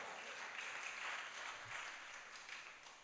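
Scattered, sparse clapping from a congregation at a Jain religious discourse during the Daslakshan festival, honouring the mothers present; faint, steady patter of hands throughout with no talking.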